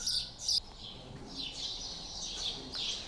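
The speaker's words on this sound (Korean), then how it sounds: "중세시대에도 지적이었을 법한 참새가 오늘도 변함없이 여행자를 반긴다." Sparrows chirp in short bright bursts through an old walled stone town in Malta, with a few sharp tweets near the start and more scattered calls later over a quiet outdoor background.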